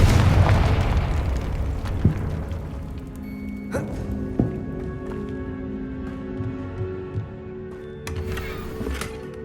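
A Confringo spell blasting in Hogwarts Legacy, a loud close explosive boom at the start rolling into rumbling debris, followed by scattered softer thuds and impacts over a lingering game ambience.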